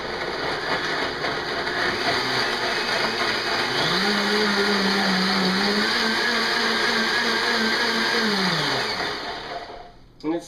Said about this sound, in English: This is a Blendtec blender.